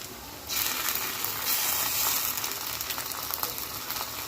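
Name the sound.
ginger garlic paste sizzling while frying for khichdi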